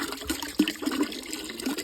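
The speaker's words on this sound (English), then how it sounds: "I am going to give him this gallon of water though." A gallon of water poured out for a farm animal in a barn, a short splashing and gurgling pour with a quick burst near the middle, faint and close.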